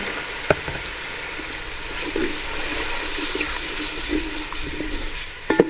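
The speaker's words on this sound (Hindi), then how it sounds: "अब इसमें थोड़ा सा पानी शामिल करेंगे।" Water poured into a pan of sizzling Arabic spice masala for fish majboos sets off a steady hiss and bubbling fry, with a few clinks of a utensil near the start and end.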